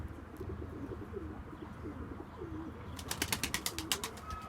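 Pigeons coo in a coop, several soft, low, rolling calls overlapping near and far, with a quick burst of flapping wings toward the end.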